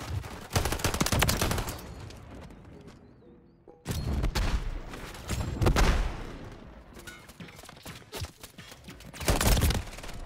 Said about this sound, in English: Oh, that guy is actually shooting.